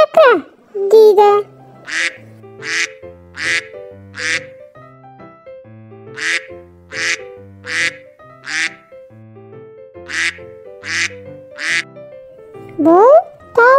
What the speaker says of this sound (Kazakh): Үйрек кря-кря-кря-кря-кря,